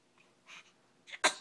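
A four-week-old baby boy sitting in a bumbo seat lets out a few faint sniffly breaths, then one small, sharp sneeze up close.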